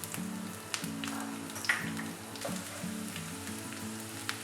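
Garlic, dried chilies and green chilies frying in oil with cinnamon, cloves and cardamom, a continuous close crackling sizzle with small pops, fairly quiet, over a low steady background tone, no talking.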